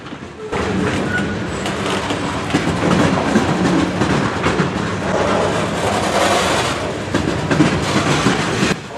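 A freight train rolls steadily past close by, with a beaten-up former BNSF grain car and a former Chicago Northwestern grain car among its cars, giving a continuous loud rumble and rhythmic clickety-clack of wheels over rail joints.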